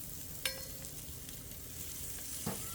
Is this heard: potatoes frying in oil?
yes